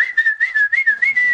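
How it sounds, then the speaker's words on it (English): A person whistles a short, jaunty tune in the Raiders of the Lost Ark theme, the notes rising and falling in quick phrases, close and loud with nothing else behind it. "You whistled?"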